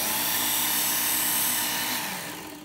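A WorkSharp powered knife sharpener runs on its coarse belt, giving a loud, steady mechanical whine with a constant hum underneath that eases slightly near the end.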